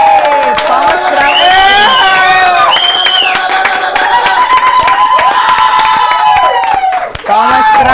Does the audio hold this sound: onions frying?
no